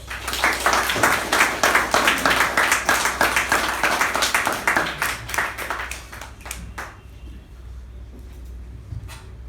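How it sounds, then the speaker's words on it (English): An audience at a club meeting claps to welcome a speaker, with loud, rhythmic individual claps standing out at first before tapering off into scattered hand claps and quiet. "With a huge round of applause, can we welcome the speaker 1"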